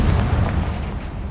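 The Confringo fire spell exploding in the video game Hogwarts Legacy gives a loud, close, deep booming blast with a rumbling tail that fills the short moment.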